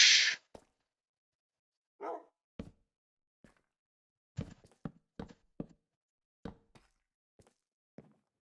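Sharp, separate dog barks from a video game, about ten of them spread over several seconds with gaps between, close and fairly loud, with no talking.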